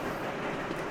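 A train rolls along in the railway-building game Sweet Transit, a steady close rumble of rail noise with a faint clickety-clack running evenly through the moment, with no voices over it.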